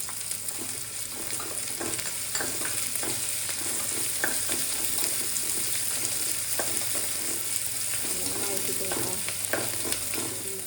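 Green chillies frying in hot oil with garlic for injipuli, a dense continuous sizzle with steady stirring scrapes and light spatula clicks.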